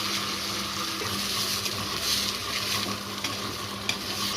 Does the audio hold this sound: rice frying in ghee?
yes